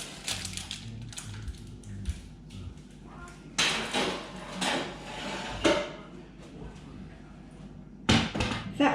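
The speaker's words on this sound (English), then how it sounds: "And now I'll pop it back in the oven for another 10 minutes." A granola tray slid back into a home oven and the oven door closed, a series of clattering metal knocks and a firm thud, close by with no talking.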